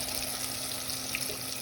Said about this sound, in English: the chicken is already frying beautifully